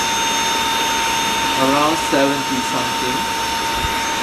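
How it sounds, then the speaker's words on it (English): A household vacuum cleaner runs loud and steady as a constant broadband roar with a whining tone, while a person talks over it for a moment. "So this is the noise from the vacuum cleaner"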